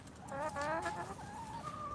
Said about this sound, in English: We've got a buff Orpington.